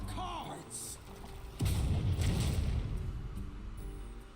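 Bombs go off in the Hearthstone card game, first a few muffled thumps and then a louder booming burst with rumbling debris that gradually fades away.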